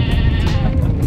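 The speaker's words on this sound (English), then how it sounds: "It's a flock of sheep." A flock of sheep bleats loudly and continuously on a village road in Kyrgyzstan, with overlapping calls close by.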